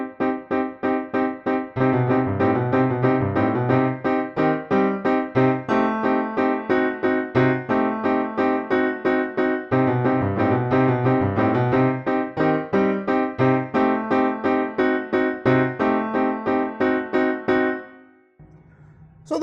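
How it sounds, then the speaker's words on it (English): Staccato chords from Burgmüller's Ballade are struck heavily from the arms on a piano, a dense, ponderous stream of short, weighty hits in a driving pulse that stops near the end. "they play the staccatos with their arms, which create a ponderous sound"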